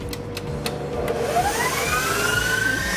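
An electric mixer whisks a thick marshmallow mixture, giving a steady, close motor whir with a rhythmic churning beat that holds for the whole stretch. There is no talking over it.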